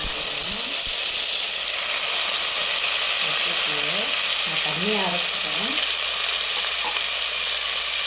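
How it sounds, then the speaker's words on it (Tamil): Ginger garlic paste hits hot oil in a pan for a Tamil salna gravy, giving a loud, steady sizzle and hiss throughout, with someone speaking over the frying. "இப்போ ஆயில் சூடாக இருக்கு இல்லையா, இதில் நம்ம கொஞ்சம் ஜிஞ்சர் கார்லிக் பேஸ்ட்"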